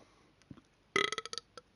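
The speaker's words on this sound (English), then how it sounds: "That was a classic burp." A single person's burp: a loud, gravelly burst of rapid pulses lasting about half a second, preceded by faint mouth noises and followed by a short trailing click, with no talking.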